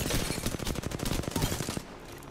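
Rapid automatic gunfire in the video game Apex Legends, a dense run of loud, closely spaced shots for nearly two seconds before cutting to quieter game ambience.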